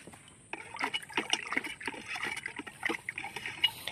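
Booster 76 fertilizer being stirred into water in a container, close sloshing and splashing with trickling, uneven strokes after a short quiet start.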